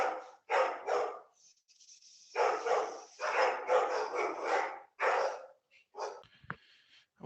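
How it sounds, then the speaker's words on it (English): Dog barking repeatedly in the background of a house as a package is delivered, a series of close barks in uneven bursts with short pauses between them. "Apologize for the dog in the back."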